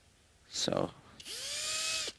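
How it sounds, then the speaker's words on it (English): A countersink bit in a power drill cuts into the finish of an Epiphone Les Paul Special II guitar body, with a brief whir followed by a steadier high-pitched spin lasting under a second, close up. "I need to use the countersink first so that the finish doesn't chip off"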